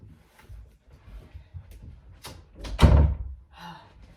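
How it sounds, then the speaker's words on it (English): A dog opening an indoor door: quiet shuffling and rustling lead to one solid, close thunk of the door, followed by a faint rattle. "as soon as I close that door, she's gonna open it up"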